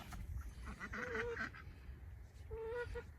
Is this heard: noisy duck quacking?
yes